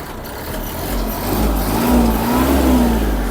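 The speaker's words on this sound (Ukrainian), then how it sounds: "Давайте додамо обертів." A Kubota GL-320 mini tractor's three-cylinder engine revving up from idle, a close, loud mechanical drone that rises in pitch and holds at higher speed with slight wavering, no voices.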